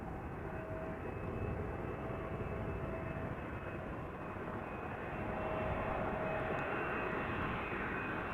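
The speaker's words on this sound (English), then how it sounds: "a 777 from China Southern Cargo, arriving from Shanghai, flight 495" A China Southern Cargo Boeing 777 freighter arriving at Amsterdam Schiphol Airport, its steady jet roar faint and distant, holding level and swelling slightly toward the end.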